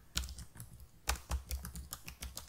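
Fingers type code on a computer keyboard, a quiet, close run of irregular clicks and key taps with a few louder strikes, heard alone without speech.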